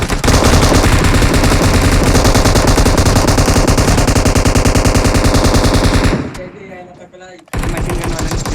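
Rapid machine-gun fire in PUBG Mobile squad gameplay rattles continuously and loudly for several seconds, breaks off briefly, then resumes with another burst.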